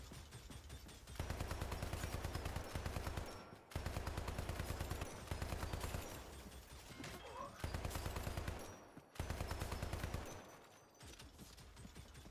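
Defensive turrets firing in the video game Hypercharge, rapid bursts of automatic gunfire in several loud volleys broken by short pauses while they cool down, a voice talking faintly underneath.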